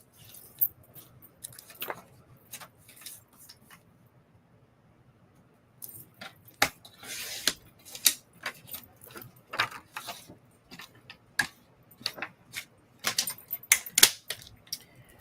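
Paper being trimmed to letter size with a cutter, a run of sharp clicks, snips and rustles in uneven bursts, close up and fairly loud after a quiet stretch, no talk.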